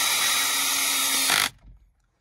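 Electric screwdriver unscrewing a fastener on a Mercedes GLE, a steady loud whirring motor run of about one and a half seconds that stops abruptly, heard close and alone.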